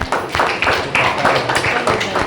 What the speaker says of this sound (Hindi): सर के लिए जोरदार तालियां प्लीज।